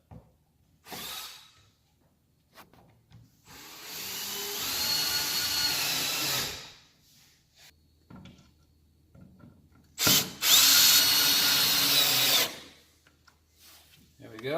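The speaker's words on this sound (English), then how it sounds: "I'll put some screws in the bottom to hold it up." Power drill driving screws up through the bottom into a plywood and melamine drop form for a curved concrete countertop, in two sustained whining bursts of a few seconds each with short clicks and pauses between, close and fairly loud.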